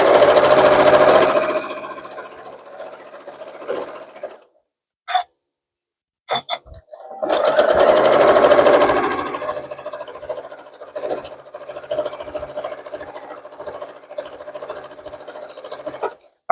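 A sewing machine stitches quilt borders in long steady runs, a close buzzing hum that stops briefly with a few clicks, then resumes and continues with slight unevenness.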